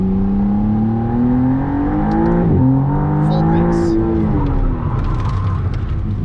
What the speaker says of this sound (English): I'm gonna speed up a little bit, and then I'm gonna hit the brakes.